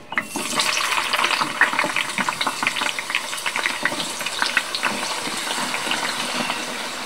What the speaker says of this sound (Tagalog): So, mainit na yung mantika. Pwede na natin lagyan nitong kamote fries.